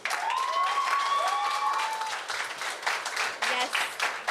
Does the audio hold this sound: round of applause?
yes